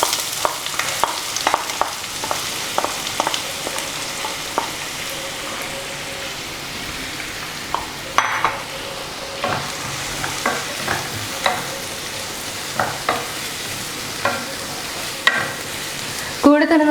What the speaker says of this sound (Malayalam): അപ്പോൾ ഞാൻ ഇതിനകത്തോട്ട് സവാള ചേർത്ത് കൊടുക്കുകയാണ്.